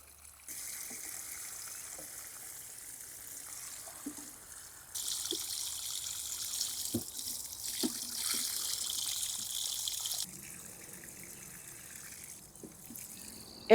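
Water splashes and trickles onto tomato plants in a summer kitchen garden, a soft continuous hiss that swells louder midway and then eases back, with occasional small drips and knocks.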